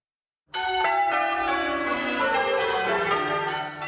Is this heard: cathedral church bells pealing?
yes